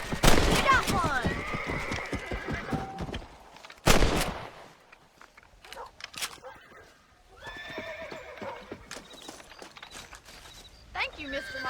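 In the Red Dead Redemption video game, rifle shots ring out while hunting rabbits, with sharp bangs mixed among horse whinnies and clip-clopping hooves, alongside spoken dialogue.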